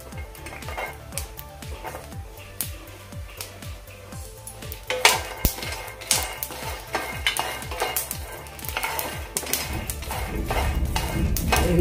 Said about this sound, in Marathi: एक 2 मिनिटं लसूण सुद्धा आपण यामध्ये भाजून घेऊयात।